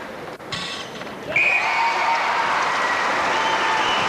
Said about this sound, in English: Mark Angove applauds